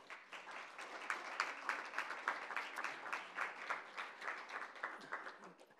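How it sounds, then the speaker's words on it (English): Audience applause at a Bantams & Beyond event: a sustained burst of clapping from a crowd, steady and dense with slight swells, fairly distant and alone without speech. "let's give them all a big round of applause"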